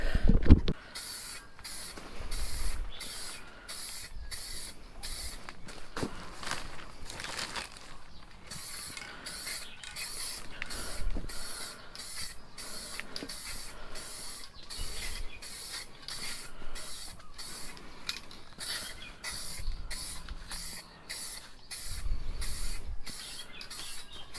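Spray painting car side skirts for a turbo BRZ in a backyard: repeated short hissing bursts from the spray can, close and rhythmic.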